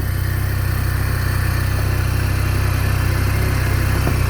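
An Arctic Cat snowmobile engine idles at high RPM in a forest, a loud, steady droning hum with constant vibration and no change in pitch.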